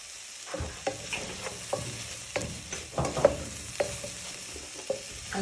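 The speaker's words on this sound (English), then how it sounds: "give them a good stir in so all the flavours start to marinate and cook" Turmeric, paprika and chilli powder being stirred into spicy rice frying in a pan: a string of scraping, clattering stirs over a steady close sizzle, with no voices.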